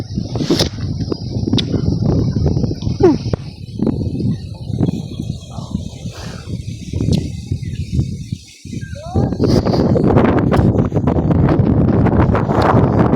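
Strong gusting wind on an island in Northern Samar buffets the microphone in a rumbling roar, dropping briefly before surging again, with faint rustling and occasional distant sounds.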